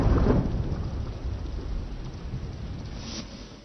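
Heavy monsoon rain pours down across South Gujarat, sounding as a steady, dense roar of rainfall with a deep rumble of thunder at the start, continuous and fairly loud with no voices.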